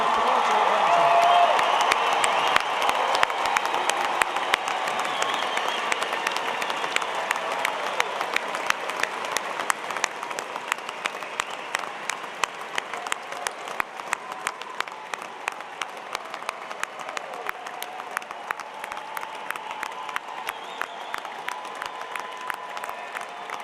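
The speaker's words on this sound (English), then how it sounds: "Families and friends, please applaud your graduate." A large audience at a college of engineering commencement applauds its graduates, sustained clapping filling the hall with a few faint cheers, slowly easing in volume over the long stretch.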